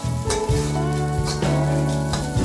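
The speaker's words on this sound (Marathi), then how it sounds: "छान भाजून घ्यायची मंद गॅस होती। खिचडी छान भाजून तयार आहे बघा," Sabudana khichdi (soaked tapioca pearls) roasting in a pan over a low flame gives a steady close sizzle, with a few stirring scrapes and clicks running through it.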